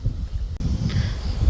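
Strong gale-force wind buffets the microphone at Wolya Well in Western Australia, a low, rumbling roar that blows steadily and loudly throughout with gusty swells.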